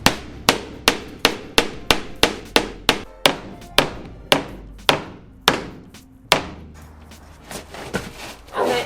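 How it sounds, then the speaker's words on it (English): A hammer strikes repeatedly while floor panels are pried out of a VW Crafter van during conversion, with about fifteen sharp, close, evenly spaced blows in a steady rhythm, then a few scattered knocks and scraping. "And a hammer."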